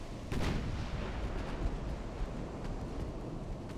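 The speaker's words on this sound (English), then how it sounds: "keep shelling the enemy." Warship guns shelling in the naval battle game Ultimate Admiral: Dreadnoughts, set in a pre-dreadnought era mission, with one loud report near the start, then a steady rumbling, wind-like roar of distant firing.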